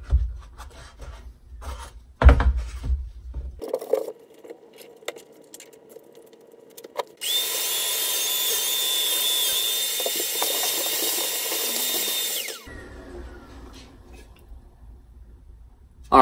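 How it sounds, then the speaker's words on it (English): A power tool cuts tabs off a poplar wood e-bike rack, giving a steady, loud whir for several seconds after a scattering of handling knocks and scrapes, then stopping abruptly. "I just need to cut these tabs off"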